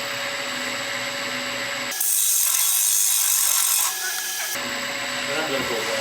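A detail gouge cuts a wooden bowl on a lathe, giving a loud, steady, bright hissing scrape for about two seconds between quieter stretches of spinning-wood rubbing.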